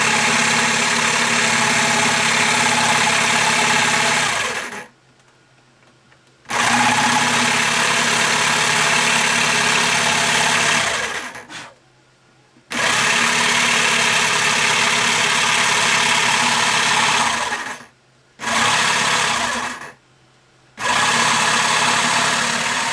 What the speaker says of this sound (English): Need something to suck the dust out as I cut.